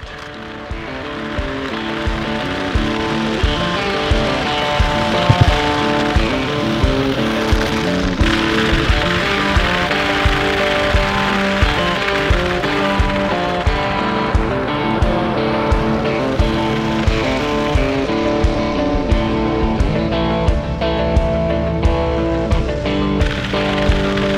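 A truck rolls over asphalt while dragging an RV sewer hose behind it, a steady broadband road and engine rumble with a regular rhythmic clacking throughout, close and loud.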